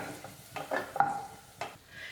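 Raisins roast in ghee in a pan and are stirred, giving a soft, close sizzle with a few light scraping strokes of the spoon and faint clinks of metal.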